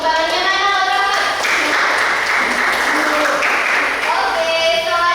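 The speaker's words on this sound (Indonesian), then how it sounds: "Tepuk tangannya mana Rahmat?" Classroom applause for a student, a burst of many hands clapping loudly for about three seconds, with voices talking just before and after.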